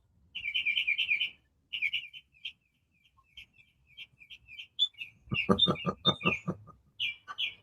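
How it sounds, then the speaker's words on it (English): A bird chirps close to the microphone in repeated bursts of bright, rapid tweets, loud and near, broken by short pauses and mixed with low murmured sounds. "that bird sounds like he's sitting right at your microphone"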